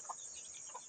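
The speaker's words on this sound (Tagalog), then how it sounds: "Yung mga manok sa kagubatan. Yung labuyo." Wild junglefowl (labuyo) give a couple of faint, brief clucks in a forest by a farm, over a steady high insect-like hiss.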